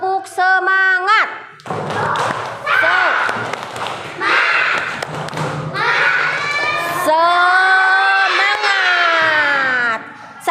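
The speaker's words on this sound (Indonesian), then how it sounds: "Sekarang tepuk semangat." A class of children claps out the rhythmic 'tepuk semangat' spirit clap in a classroom, with thumping claps mixed with loud chanting young voices in bursts.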